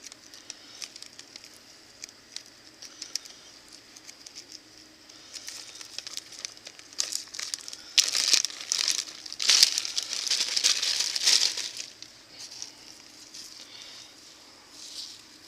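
Plastic bag crinkling and rustling while pork is salted inside it, soft and intermittent at first, then a louder, denser stretch of crackling handling in the middle before fading, close by, no talking.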